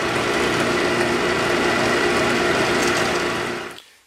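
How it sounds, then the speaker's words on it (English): A power drill whirs steadily as it enlarges screw holes in small metal pieces for a homemade ribbon microphone, running continuously at close range before winding down and stopping. "I drilled the hole out a little bit bigger."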